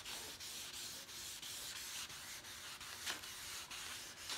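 Hand sanding of cured clear coat on car paint, repeated back-and-forth rubbing strokes in a steady rhythm, close and fairly quiet with no talking.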